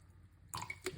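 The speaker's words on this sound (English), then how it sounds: "we're going to put some water into it. That's the water." Water splashes briefly into a container for a pink-salt detox drink, a short, close, bright pour after a near-silent moment, with a second small splash at the end.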